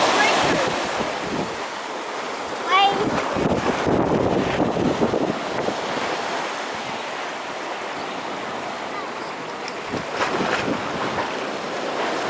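Ocean waves wash around a boat near rocks, a continuous broad rush of surf blended with heavy wind buffeting the microphone, with brief swells and a faint voice at times.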